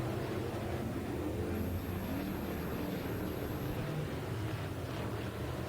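SportMod race cars rev their engines at a dirt track speedway, a distant, steady, droning roar that continues evenly throughout with no talking over it.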